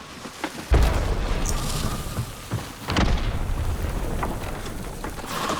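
Two heavy grenade explosions in Hunt: Showdown boom a couple of seconds apart, each trailing into rumbling noise, with smaller pops in between.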